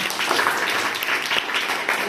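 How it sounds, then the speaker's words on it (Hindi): Steady clapping from a group of young hands, a dense patter of claps lasting throughout, fairly close and lively. "इसके लिए तालियां बजाओ बेटा"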